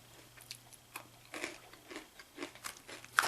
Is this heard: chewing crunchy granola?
yes